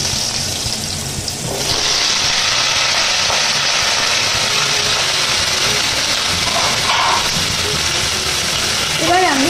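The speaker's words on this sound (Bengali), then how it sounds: "এবার ওই তেলের মধ্যে আমি মিষ্টি কুমড়োর টুকরোগুলো দিয়ে দিচ্ছি" Pumpkin pieces dropped into hot oil in a wok, setting off a loud, steady broadband sizzle that continues close up, with faint clinks and no talk.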